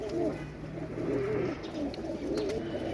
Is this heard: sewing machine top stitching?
no